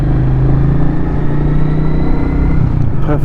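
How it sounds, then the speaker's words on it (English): A Royal Enfield Meteor 350 motorcycle exhaust gives a steady, loud, low burbling idle close by, with a brief rattle near the end. "Makes a nice little garble from the exhaust"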